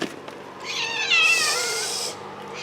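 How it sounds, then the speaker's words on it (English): A pet cat named Ruby gives one drawn-out, rising screech rather than a normal meow, loud and close, in a quiet home. "She doesn't really meow. She has a screech."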